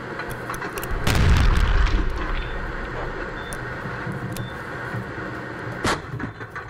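Artillery fire in Russia-Ukraine war footage, a heavy low boom rumbling for about a second, then a steady noisy background with a fainter sharp report later.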